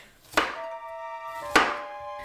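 Two sharp knife chops through red cabbage on a board, spaced about a second apart, each followed by a ringing resonance, close and fairly loud.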